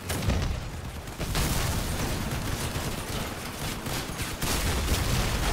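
Gunfire in the vehicle combat video game Crossout, a dense, loud, continuous barrage of shots and impacts filling the whole stretch without pause; no talking.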